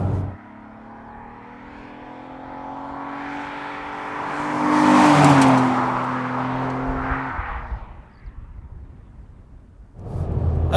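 Alfa Romeo 156 GTA Sportswagon engine, roughly 250 horsepower, rising from a low drone into a strong rev that peaks mid-clip then falls away, followed by a fresh burst of revving at the end; no talking.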